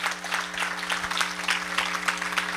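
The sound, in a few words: church congregation clapping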